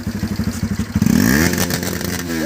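A motorcycle on a group ride revs its throttle hard: choppy pulsing engine bursts give way to a rising, sustained roar, loud and close, with a second engine whining upward near the end.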